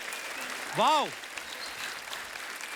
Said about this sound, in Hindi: ओ जोरदार तालियां।